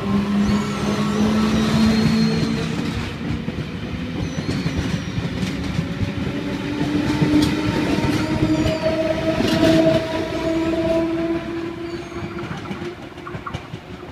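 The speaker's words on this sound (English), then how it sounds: "V24 is now departing platform 2," A Sydney Trains V-set departs a platform, its motors whining in rising tones over a steady rumble and rhythmic wheel clatter, heard close and continuous with no talk.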